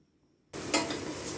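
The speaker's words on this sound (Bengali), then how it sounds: "আর এই ফাঁকে আমি ভেন্ডিটা ভেজে ফেলি" Okra hits a hot pan with salt, turmeric and dry chilli powder and bursts into a loud, steady sizzle after a brief silence, with a sharper crackle flaring shortly after.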